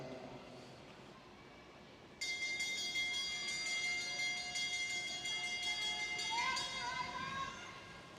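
A hand bell clangs in rapid repeated strokes to mark the last lap of a junior track cycling race, bright and ringing, over an arena murmur and a commentator's voice.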